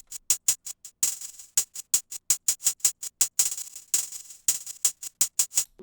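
Crisp, bright hi-hat ticks in a fast, stuttering pattern with quick rolls and echoing repeats, heavily processed, playing alone without other instruments.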